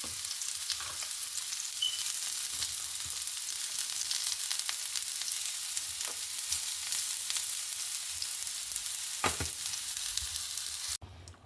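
Finely chopped onion fries in ghee in a pan for a chicken stew, a continuous close crackling sizzle with occasional louder pops and stirring scrapes.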